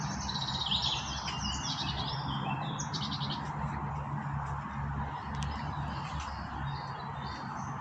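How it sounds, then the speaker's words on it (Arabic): Small birds chirp and twitter in overlapping bursts near a river lined with tall trees in a city park, clear over a steady low hum of distant urban traffic. "الصوت تاع العصافير"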